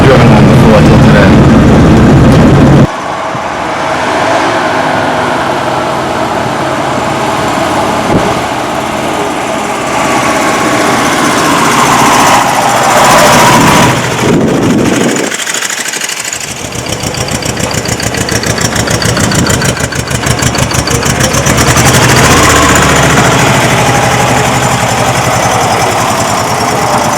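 A Saab 96 engine runs steadily for most of the stretch, a continuous buzzy drone with a brief dip midway, the car on the road for the first time in decades.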